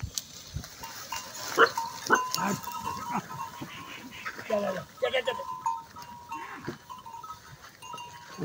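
Goats grazing in a pasture, with several bleats rising over the bustle while voices talk nearby throughout.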